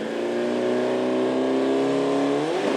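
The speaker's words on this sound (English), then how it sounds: "He lights the tires up as he comes through the burnout box there." Fox body Mustang at a drag strip, lighting up its tires through the burnout box, the engine holding a loud, high, steady whine with slight rising pitch before it drops off at the end.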